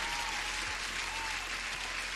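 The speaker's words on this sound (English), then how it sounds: "I think you deserve an applause there, Dario." Steady applause from a small group, a dense patter of clapping holding even throughout without pauses.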